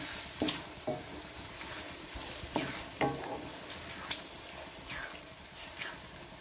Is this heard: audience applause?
no